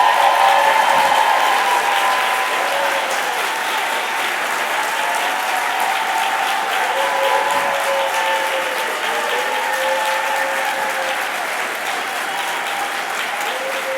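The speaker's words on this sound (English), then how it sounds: "let's give you a round of applause" A large audience at an event on endowments for four historically Black medical schools applauds medical school attendees and graduates, a dense, steady wash of clapping sustained throughout with a faint whistle or voice threading through.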